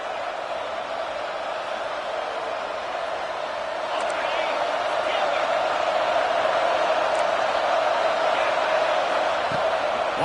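A steady roar from a college football stadium crowd at Georgia versus Texas A&M, swelling louder partway through, with a commentator's voice running over it.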